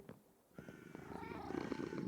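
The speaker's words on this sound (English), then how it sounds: "Cat purrs." Cat purring in the video game Minecraft, a soft, faint rumbling purr that grows slightly louder over about two seconds, alone without talk.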